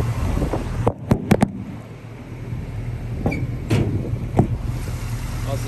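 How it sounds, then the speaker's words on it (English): The hood of a 1967 Chevrolet Camaro is popped open. A quick cluster of sharp latch clicks and clunks is followed by a few softer metallic knocks nearby, against a low steady background hum. "let's pop the hood"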